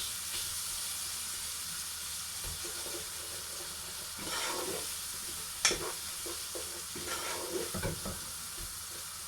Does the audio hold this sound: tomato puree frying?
yes